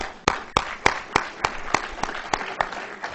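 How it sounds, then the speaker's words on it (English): People at a representative town meeting applaud, sounding as about a dozen distinct, evenly spaced sharp claps, loud and close, with a thin patter between them. "You really deserve a round of applause."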